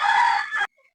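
A single short, loud rooster crow on a farm, close by and bright, cutting off abruptly into near silence.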